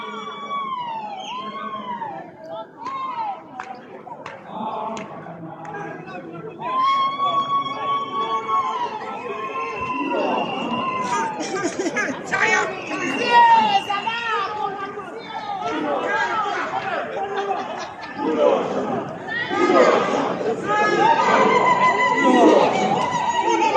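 A crowd gathered for a march with heavy police presence, with steady outdoor chatter and voices while police sirens wail and whoop repeatedly nearby, growing louder toward the end.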